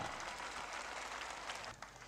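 Audience applause welcoming Dr. Laxman Yadav at a Constitution Day address in Bastar, Chhattisgarh; a dense, steady wash of many hands clapping throughout, easing slightly near the end.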